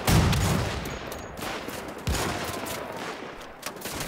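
Gunfire in Wolfenstein: The Old Blood at the docks, a heavy opening blast followed by scattered shots and a second sharp report, all loud and close over a noisy, rumbling backdrop.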